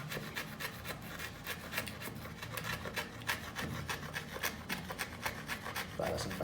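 Soft construction wood is sanded with sandpaper, a steady rhythmic scratchy rasp of repeated back-and-forth strokes, close and moderately loud, with no speech over it.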